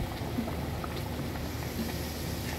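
Malvani vade, patted rounds of dough, fry in hot oil with a steady, dense bubbling sizzle that holds evenly throughout, close and continuous, with no voices.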